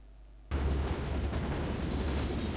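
A moving train in the video game Singularity, cutting in abruptly after a quiet moment as a loud, continuous rumbling roar that holds steady to the end.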